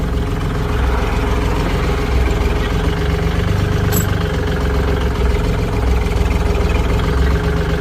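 A used 2017 Kubota L4018 tractor with a front blade and new disc harrow runs its engine steadily nearby, a loud, continuous idling chug with a low mechanical rumble and no talking.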